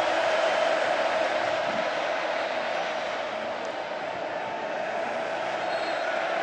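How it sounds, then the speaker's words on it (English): A dense, steady roar from a football crowd fills Kyle Field stadium during a Crimson Tide vs Texas A&M Aggies game, loud and unbroken throughout. "And now thunderous noise from the crowd here at Kyle Field."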